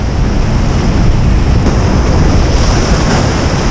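A big sea swell surges onto the shore in a dense, continuous roar of breaking waves, loud and close, with heavy wind buffeting the microphone and no voices.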